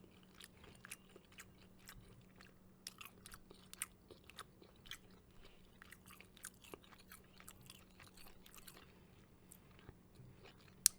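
Close, quiet chewing of fried tofu tossed in soy sauce, with soft repeated crunchy bites and moist mouth sounds over a low steady hum.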